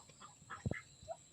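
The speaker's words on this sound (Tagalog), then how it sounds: "Ayan, daming pato." A couple of quick duck quacks in the middle, set against faint outdoor ambience with soft distant bird calls.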